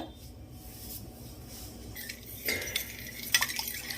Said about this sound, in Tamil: இதில் இந்த வார்ம் வாட்டரை ஊற்றிட்டு லைட்டாக ஒரு மிக்ஸ் கொடுத்துட்டு